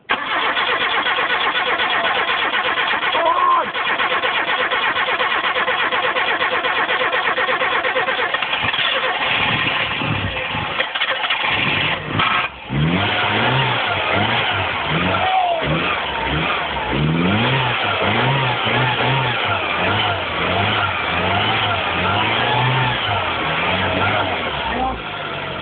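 A Nissan Cherry engine cold-starts and is held at loud, uneven revs for the whole stretch, rising and falling in repeated bursts with a smoky, rough idle between, close to the recorder with no talk over it.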